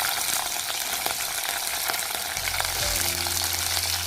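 Green chillies with curry leaves fry in hot oil in a pan for a Kerala okra curry, a steady close sizzle with a few stirring scrapes and a low clunk partway through.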